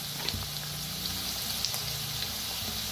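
Onion frying with turmeric in a hot pan gives a steady, dense sizzle that holds even throughout, with faint scrapes and small crackles on top and no talking.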